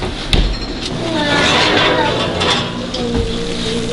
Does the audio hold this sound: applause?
no